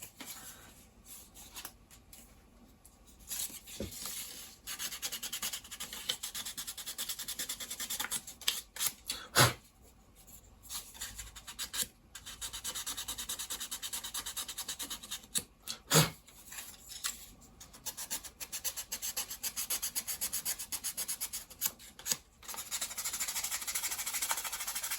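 Sandpaper rubbing a KITT model car part, heard as quiet rasping strokes in bursts with short pauses and a few sharp clicks between them, close and without speech.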